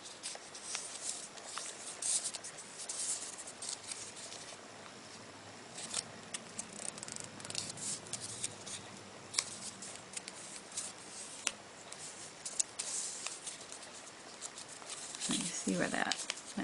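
Paper being folded and creased for origami, giving soft, close crinkling and rustling patter that runs steadily throughout, with a louder handling rustle near the end and no talk.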